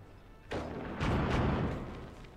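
A precision shot on an explosive barrel in the war strategy game Iron Harvest, heard as a sudden muffled boom that swells into a rumbling blast lasting about two seconds, with no voices.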